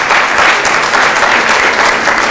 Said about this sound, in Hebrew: מגיע למחיאות כפיים